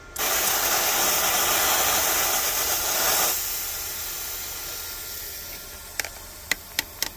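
Hand-held spray bottle sprays liquid in a steady loud hiss for about three seconds, followed by quieter hiss and several short, sharp trigger sprays near the end while working on a van body down to the frame.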